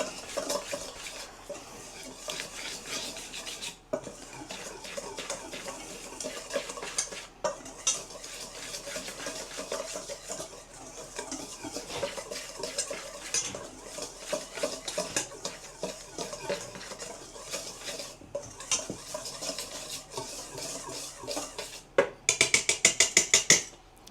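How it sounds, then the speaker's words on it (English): Dry cake ingredients for a strawberry cardamom cake whisked in a bowl, a steady rapid scratchy clatter of the whisk against the bowl that runs nearly continuously with a few brief pauses, close and moderately loud with no talking. "all we're going to do is take and whisk this together"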